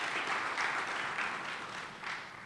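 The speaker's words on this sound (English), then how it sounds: "let's go ahead and give Adam a round of applause here for all that he does" An audience at a philanthropy plenary program gives a round of applause, a steady, moderately soft wash of many clapping hands from a seated crowd, swelling slightly and easing off.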